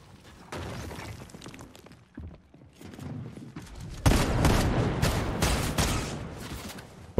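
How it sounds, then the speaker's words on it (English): Gunshots ring out in a Fortnite FNCS Weekly Finals match: sporadic shots at first, then an intense barrage of loud rapid fire and sharp cracks dominating the second half. "they're getting shot at"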